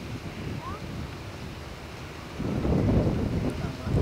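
High sea waves off Phú Quốc wash and churn around a small boat, a moderate rushing sound that swells louder midway through, with wind noise underneath.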